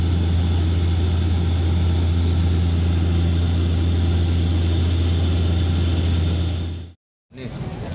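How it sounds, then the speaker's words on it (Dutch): Cabin of an airplane on a 14-hour flight to Amsterdam, with a loud, constant engine drone and low hum that cuts out abruptly near the end and then returns. "Dit is het vliegtuig waar we in zitten."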